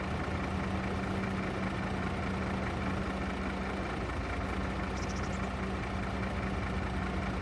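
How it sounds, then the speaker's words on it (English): A logging truck engine in a video game idles with a steady low rumble and a constant hum, unchanging and moderately loud, with a faint brief chirp partway through. "Let me just step outside to listen to the engine sound."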